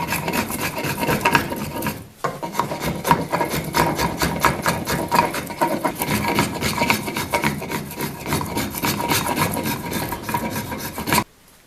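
Wooden tool handle tapered by hand with a rasp, steady close rhythmic scraping strokes that pause briefly early on, then continue until an abrupt stop.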